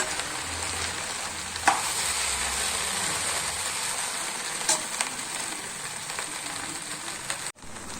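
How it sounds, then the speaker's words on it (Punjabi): Okra (bhindi) sizzles steadily as it fries in a pan, with a dense continuous hiss, a few sharp stir clicks and scrapes, and a brief dropout near the end; no one speaks. "ਇਸ ਲਈ ਇਸ ਨੂੰ ਪਹਿਲਾਂ ਫਰਾਈ ਕਰਨਾ ਹੈ"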